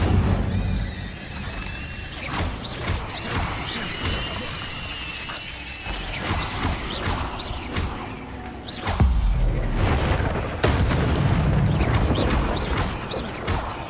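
Fire spell cast in the Hogwarts Legacy video game, a dense burst of whooshing, crackling magical effects and booms that swell and recede over busy game sound, with no talk.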